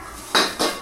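Metal pots and pans clatter in a home kitchen during a search for a large kadhai, two sharp clanking bursts close by with nobody speaking.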